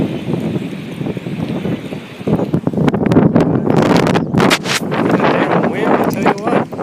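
Gusty wind buffets the microphone in loud, irregular bursts beside a 1994 Chevy, with someone talking underneath as the blasts strengthen midway through.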